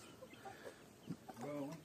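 Chickens cluck on a Brazilian farm property, short scattered calls at moderate distance with a brief louder burst near the end, under low background noise.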